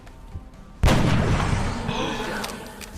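A single sharp gunshot in a video game, a loud close crack that rings out into a long decaying tail, with only faint background sound before it.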